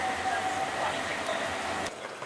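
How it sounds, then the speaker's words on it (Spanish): A tram in Seville passes nearby with a hum and a high steady wheel squeal, then the noise cuts off sharply near the end. "Otra vez el tranvía."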